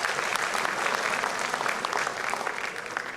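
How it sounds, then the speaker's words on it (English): Applause from the audience at a jazz festival, thick and continuous clapping at a steady, fairly loud level throughout, with no music or talk over it. "They're clapping for you."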